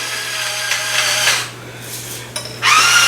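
An electric grinder or blender runs to finish grinding tomato soup ingredients with sugar, salt and pepper, whirring steadily, dipping briefly to quiet, then restarting loudly up close, with no talk.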